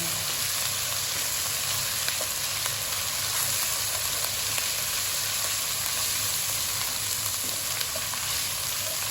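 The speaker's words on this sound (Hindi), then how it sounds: "मिर्चों को भी अच्छी तरह से फ्राई करेंगे हम इसमें।" Whole chillies frying in oil with ginger garlic paste while cooking bhindi gosht, a steady, dense, crackling sizzle that holds evenly and loud throughout without a break, no voice present.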